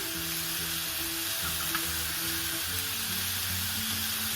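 Burgers sizzle steadily on a stovetop grill, a constant crackling fry with a low background hum and no talking.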